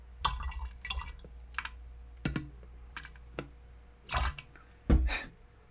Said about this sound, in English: I'm going to pour some in and see what water would look like